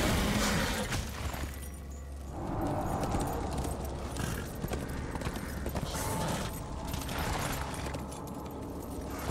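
Hooves clip-clop steadily under dense game ambience and clanking in Darksiders, a rapid rhythmic trotting at moderate loudness, with no one speaking.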